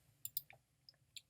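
Computer mouse clicks during Adobe Illustrator work, five or six sharp separate clicks at uneven intervals, close and fairly quiet, with no talk.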